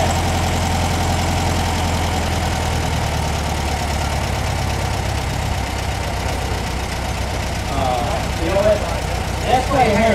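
Volkswagen engine idling with the big idle bypass screw fully closed, a steady low rumbling idle running throughout, with some irregular knocking and a few clattery sounds toward the end.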